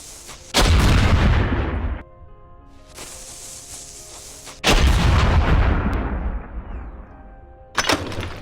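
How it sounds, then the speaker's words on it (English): Gunfire in the video game Ylands aimed at Mark 1 Armor: three heavy, booming shots spaced a few seconds apart, each with a long decaying rumble, loud and alone. "But we'll shoot 20 at it and see."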